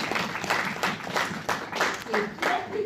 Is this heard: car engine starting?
no